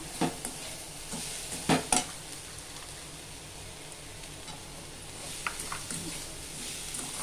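A spoon stirs and scrapes a sugar and cardamom powder mixture in a pan for kozhukattai filling, with soft sizzling and a few sharper clinks against the metal at a quiet, close level.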